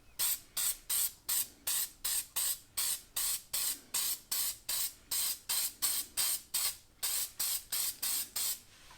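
Short hissing bursts of copper anti-seize aerosol spray onto engine gaskets repeat in a steady, rapid rhythm, about twenty in a row, close up with no talking.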